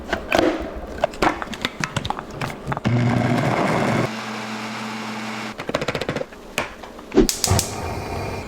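Blender grinding caldo de albóndigas ingredients with four cups of water, with cumin among them: a loud steady motor whir for several seconds between bursts of clattering and knocking.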